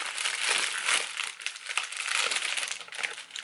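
A foil wrapper on a Barbie-themed Kinder chocolate egg crinkles and crackles continuously at close range, a soft, steady rustling with no one speaking.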